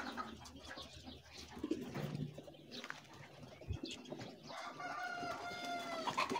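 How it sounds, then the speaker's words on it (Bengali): Pigeons coo and chickens cluck and crow at a Saudi Arabian farm house, a busy mix of near and farther calls with a rooster crowing toward the end. "ছাগল হাঁস মুরগিও থাকে, আবার কবুতরও থাকে।"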